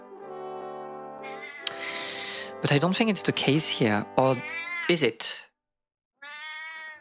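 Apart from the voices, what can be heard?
cat meowing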